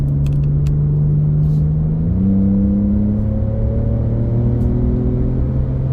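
A 2025 Ford midsize pickup truck's engine drones loudly and steadily, its hum shifting and climbing in pitch as it speeds up, with faint clicks near the start.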